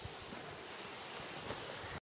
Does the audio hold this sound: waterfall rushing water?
yes